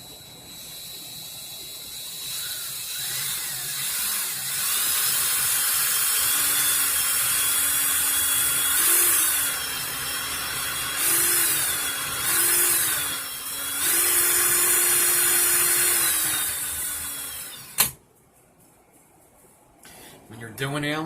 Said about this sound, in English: That, or like what I was just doing, pulsing the drill, letting your hand catch up.